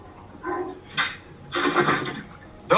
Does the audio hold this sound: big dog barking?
yes